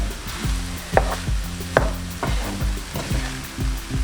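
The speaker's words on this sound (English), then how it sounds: "Just give it a good mix in everywhere." Egg fried rice being stirred and tossed in a pan, with repeated scraping and clacking strokes of a utensil over a low continuous hum and faint sizzle, close and fairly loud.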